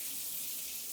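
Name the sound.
water running from shower head and tub filler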